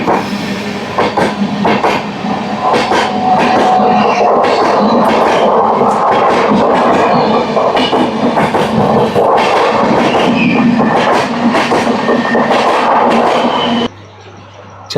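A MEMU train runs from Rajahmundry to Vijayawada, its steady loud rumble and rapid clickety-clack of wheels over rail joints heard close from inside. A hum continues, then the noise cuts abruptly near the end.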